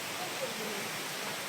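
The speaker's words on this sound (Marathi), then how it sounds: "शिरवण्यातील धबधबा" A forest waterfall at Shirvan, in hill country above a deep valley, gives off a faint, steady rushing hiss that lasts the whole brief moment.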